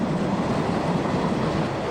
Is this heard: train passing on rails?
yes